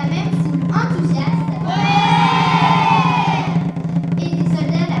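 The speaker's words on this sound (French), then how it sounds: "La même foule enthousiaste." An enthusiastic crowd cheers and whoops in a broad, sustained swell that rises in the middle and then fades back into a noisy, murmuring throng, with shouts scattered through it.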